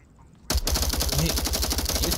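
Automatic gunfire in the VR shooter Onward, a sudden loud, rapid burst that starts after a brief quiet moment and keeps going as a continuous rattle.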